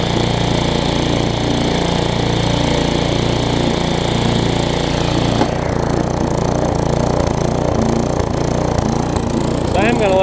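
A Tecumseh small engine with a newly replaced carburetor runs steadily at close range, a loud continuous buzzing drone that shifts to a slightly lower, rougher idle partway through.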